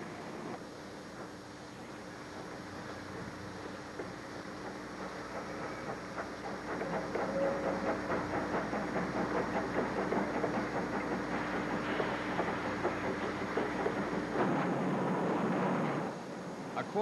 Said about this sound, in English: Trains of empty cars are hauled to the mixing plant